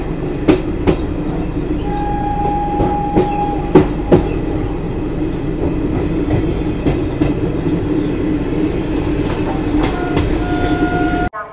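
Garib Rath Express train running on the line, a steady loud rumble of wagons with rhythmic clickety-clack wheel beats throughout and brief sustained squeals near and far, no voices.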